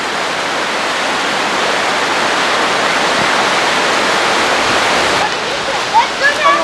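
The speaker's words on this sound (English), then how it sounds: "Right where the waterfall goes." Waterfall on a hike near Owen Sound, a loud, steady broadband rush close by that fills the whole scene; a voice speaks briefly over it at the end.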